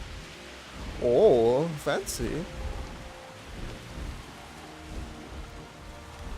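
Rain and thunder from a storm in the video game Jurassic World Evolution: a steady wash of rain with low rumbling, and a person talking briefly over it.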